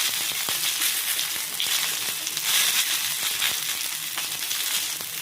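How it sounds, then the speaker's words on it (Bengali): Small puti fish frying in hot oil give a steady, dense sizzle with crackling pops scattered throughout, close and loud, with no talking. "যখন পুঁটি মাছ ভাজি হচ্ছে"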